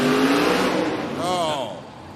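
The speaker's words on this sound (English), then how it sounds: "You heard the engine rev after that beautiful move." The El Toro Loco monster truck's engine revs loudly and rises in pitch inside an arena at a Monster Jam event, with commentators talking over it.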